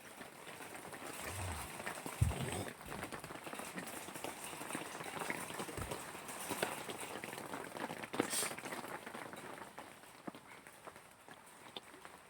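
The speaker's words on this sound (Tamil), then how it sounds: "வந்துடுச்சு. மழை வந்துடுச்சு." Steady rain patters on surfaces outdoors near a hill, a dense continuous hiss with a few louder thuds and knocks, moderately quiet throughout.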